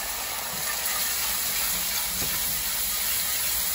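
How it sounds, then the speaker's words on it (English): A cup of broth poured into a hot pan, giving a loud, steady sizzling hiss that holds evenly throughout at close range. "So I'm gonna add in, I got a cup of that broth from the crock pot."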